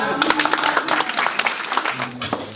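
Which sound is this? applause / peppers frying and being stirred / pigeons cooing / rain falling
applause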